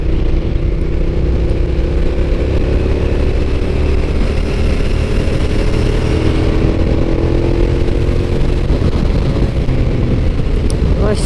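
Engine of a Yamaha FJR motorcycle held at a steady drone while riding along a gravel-strewn winding road, loud and continuous with rising and falling tones throughout.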